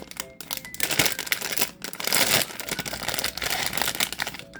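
The foil wrapper of a Pop Mart The Monsters blind box is handled up close, giving loud, continuous crinkling with brief dips in intensity.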